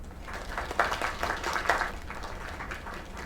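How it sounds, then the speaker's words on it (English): Steady crowd applause in the video game Lake, with scattered claps and faint cheering, continuous and moderately loud throughout. "Another round of applause."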